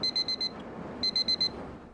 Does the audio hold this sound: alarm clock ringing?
yes